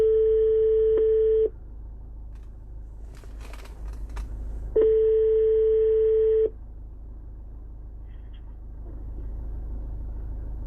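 Telephone ringback tone on a call, two long steady electronic tone bursts separated by a pause, loud and clear over a low background rumble, no talking.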